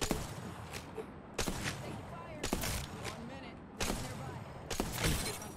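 Sniper fire in the Apex Legends video game, four sharp loud cracks spaced about a second apart, each with a short ringing tail, over quieter game ambience.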